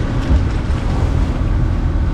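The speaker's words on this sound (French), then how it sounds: "Parce qu'il y a plein de vent" Strong wind at sea aboard a sailboat near the Balearic Islands: a loud, constant roar and buffeting close to the microphone, with no pauses, mixed with the wash of water.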